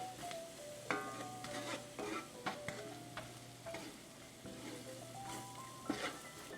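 Onions and flour sizzling in butter in a pan over medium heat, a steady crackling fry with intermittent clicks and scrapes of stirring, close and fairly quiet.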